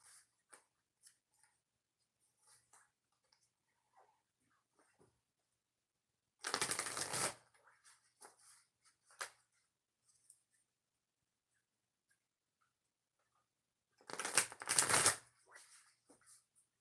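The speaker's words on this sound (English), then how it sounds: "Three shuffles for Pick a Card reading number 6" Oracle cards are shuffled for a reading in two distinct riffling bursts several seconds apart, close and crisp, with scattered soft taps and card handling between them.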